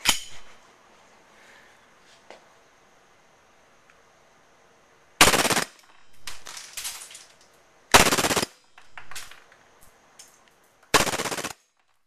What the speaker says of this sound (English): Switching out mag to go full auto, and changing to around balls per second.